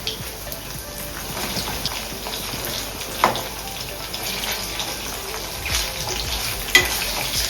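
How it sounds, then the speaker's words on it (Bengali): Chicken pieces frying in oil in a home kitchen for chicken fried rice, a steady close sizzle with occasional stirring scrapes and clinks over it, no talking. "চিকেনগুলো অলমোস্ট ফ্রাই হয়ে গেছে"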